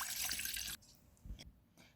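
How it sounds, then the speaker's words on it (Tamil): Water is poured into a saucepan to make dry ginger coriander coffee: a bright, splashing stream lasts under a second, then soft drips and small clinks follow in a quiet kitchen. "சாஸ்பேனில் 2 கப் தண்ணி ஊற்றிக்கோங்க."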